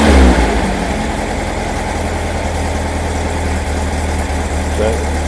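A Formula Vee race car engine fitted with a lambda kit runs close by in a loud, steady idle with a low rumble, lifting briefly near the end as the throttle is blipped.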